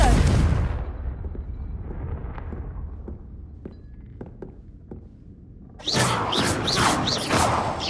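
A Confringo spell blast in a Harry Potter game opens with a loud explosive burst that decays into a low rumble with scattered small knocks, before another loud, crackling surge of blast noise erupts near the end.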